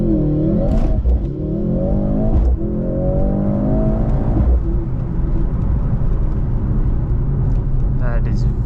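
A 2025 Mercedes-AMG C63 S does a launch start. The engine revs hard, with loud rising and falling sweeps close by that run steadily through the whole stretch, and a voice is heard briefly.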